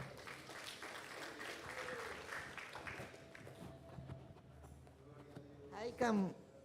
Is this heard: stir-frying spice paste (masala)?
no